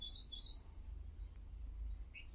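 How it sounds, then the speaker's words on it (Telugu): Two short, bright bird chirps outdoors right at the start, then a faint distant call near the end, heard alone over quiet low background noise. "జీవరాశులు శబ్దం చేస్తుంటే ఎంత ముద్దుగా వినిపిస్తుంటాయి."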